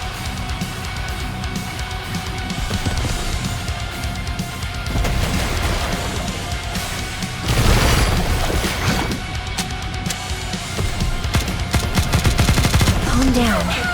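Rapid, sustained automatic gunfire and heavy booms from the video game Goddess of Victory: Nikke, loud and dense throughout, with a sharper burst of blasts midway and game voices mixed in.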